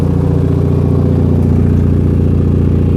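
A Saab 9000 Classic Turbo engine idles loudly and close, a deep, steady rumble with a throbbing, uneven beat and no voices.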